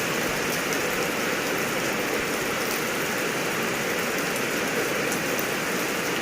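Heavy rain pours down over a rural rice-field home in Thailand, a dense, steady wash of hiss and patter that stays loud and even throughout with no voices.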